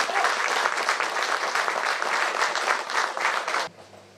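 A crowd at a commemorative day applauds Raymond, dense and loud clapping held evenly for several seconds before cutting off abruptly, leaving near silence.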